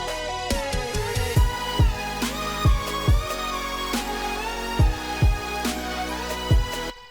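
Pounding electronic dance track with deep bass hits and sharp percussive kicks in a steady rhythm, layered synths sustained over the beat, loud and full.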